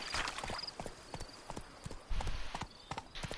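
Horse hooves clip-clop in The Witcher 3 video game, a steady run of moderately loud hoofbeats with a soft game background behind them.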